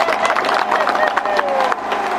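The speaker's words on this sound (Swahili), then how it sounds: "Makofi kwake." A crowd claps in applause for a farmer during a cotton-farming training session in Magu, Tanzania, with a steady, dense patter of hands and a murmur of voices mixed in.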